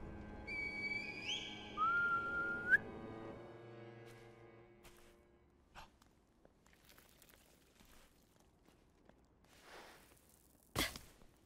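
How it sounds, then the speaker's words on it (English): A reed whistle sounds in Sekiro: a short rising, wavering whistle call followed by quiet ambient noise, a few soft thuds and a sharp burst near the end. "Call the divine arrow with the reed whistle?"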